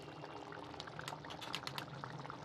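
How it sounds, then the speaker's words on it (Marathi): Mushroom masala curry simmering in a pan, a soft, steady bubbling with small popping bursts, close and faint, with no talk. "आपली छान उकळी आलेली आहे भाजीला."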